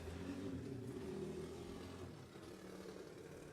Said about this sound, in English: The car definitely sounds like it's got a lot of power under the hood